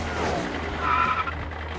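A short, fairly faint tire skid from a toy monster truck, a brief squealing screech over low rumbling, with no voices.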